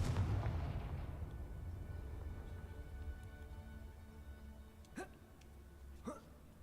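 The Confringo explosive spell in Hogwarts Legacy: a heavy booming blast at the start that decays into a low rumble, followed by two short, sharp magical zaps later, fairly faint overall.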